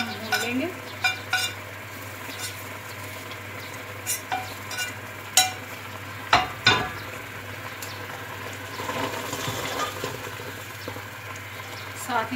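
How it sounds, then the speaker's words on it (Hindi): Mutton with browned onion frying in a pot for tinday gosht, with a steady sizzle and occasional spoon scrapes and knocks against the pot, heard up close. "अब ये डालकर इसको हम भून लेंगे"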